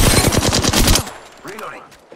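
Rapid automatic gunfire in the video game Apex Legends, a loud burst of about a dozen quick shots followed by a short tail and faint game sounds.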